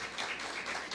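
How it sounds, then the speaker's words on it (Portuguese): Applause for Jesus in a church service, a short stretch of dense, even clapping from a crowd, soft and somewhat distant. "Dá uma forte salva de palmas para Jesus"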